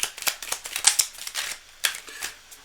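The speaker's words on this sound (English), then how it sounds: "One last micro shuffle and then you're ready to go." Tarot cards riffled and tapped in a quick micro shuffle, close and crisp, with a run of short papery flutters and clicks and no talking.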